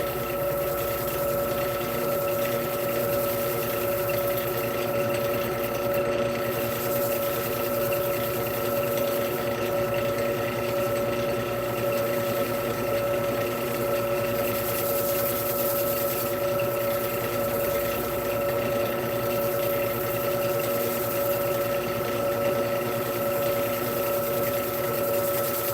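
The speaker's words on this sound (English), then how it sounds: "I'm running the lathe." A wood lathe spins a walnut crotch blank with a steady, continuous mechanical drone and hum that holds unchanged throughout, loud and close with no talk.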